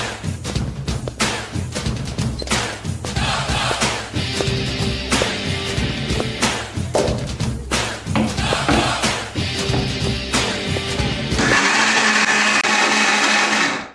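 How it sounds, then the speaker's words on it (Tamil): A kitchen mixer grinder blends leftover khichdi with added water into a batter. Loud choppy grinding with thumps comes first, then it settles into a smooth, steady high whir in the final seconds. "மிக்ஸி ஜாருக்கு டிரான்ஸ்ஃபர் பண்ணிட்டு கூட கொஞ்சம் தண்ணியை ஊற்றி நல்லா கடன்னு கிட்டு நல்லா அரைச்சி மாவு கன்சிஸ்டன்சி கொண்டு வந்துட போறோம்."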